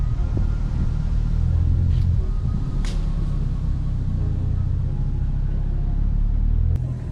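A 10th gen Honda Civic drives along the road with a steady low engine rumble and tyre noise inside the cabin, broken by a couple of brief faint knocks.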